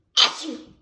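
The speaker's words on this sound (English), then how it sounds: "did you just sneeze right into the bowl?" A single sharp sneeze, loud and close, erupts in a home kitchen while someone is baking with vanilla extract. It trails off quickly, with no other sound after it.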